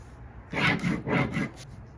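Pen drawing a line on a paper sewing pattern, three short scratchy strokes in quick succession, close and fairly loud.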